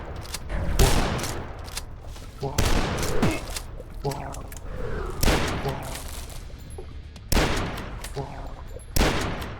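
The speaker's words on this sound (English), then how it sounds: "I think these guns work underwater." Rapid bursts of gunfire from the video game Till Dawn, fired underwater, come in loud, repeated volleys with short gaps between them, forming a dense, sustained barrage across the whole stretch.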